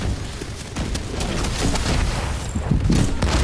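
Loud gunfire from The Division 2 rattles in dense, rapid bursts mixed with booms, filling a noisy, chaotic soundscape.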